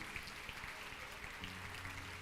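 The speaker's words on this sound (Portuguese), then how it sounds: "Pode aplaudir ao Senhor por isso." A church congregation claps during a service, a faint, distant wash of steady applause.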